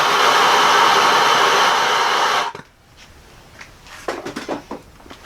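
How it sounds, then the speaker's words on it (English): A MAP gas torch roars steadily while heating a rusted Jeep Cherokee XJ hub, then cuts off abruptly and a few metallic clanks and handling knocks follow. "I have a MAP gas torch, and I'm going to give it a couple of minutes with the MAP gas"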